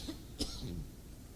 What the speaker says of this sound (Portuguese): eu tossi